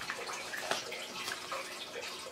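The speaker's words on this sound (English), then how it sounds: "little incremental clips of the water draining" Water draining out of a 125-gallon cichlid aquarium, a faint continuous watery trickle and gurgle with small splashes, steady and unbroken.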